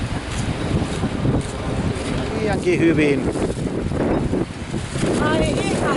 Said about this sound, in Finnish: toi tuuli aika lailla reippaasti vie rouvan leijaa